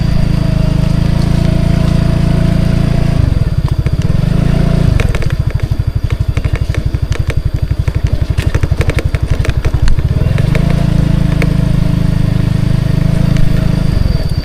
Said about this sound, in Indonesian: Kita nyoba naikin motor.